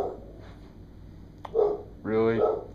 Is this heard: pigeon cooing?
no